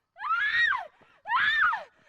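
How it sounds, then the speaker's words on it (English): A woman's scream sound effect, two long rising-and-falling shrieks separated by a short pause, loud and close with no talk. "It was like a woman's scream,"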